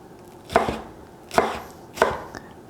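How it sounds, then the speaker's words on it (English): Green onion being diced finely with a knife on a cutting board, three sharp, distinct chops spaced unevenly, close and clear with no talking. "let's dice it into very, very small pieces, almost like a julienne"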